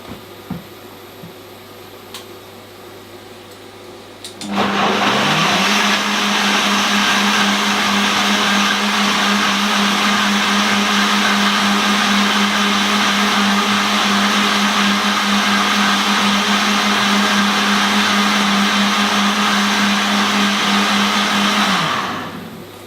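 A blender whirs at full power for nearly twenty seconds, processing ingredients for a vegan cheesy lasagna sauce, loud and steady from a sudden start to an abrupt stop.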